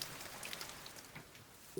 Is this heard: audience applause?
no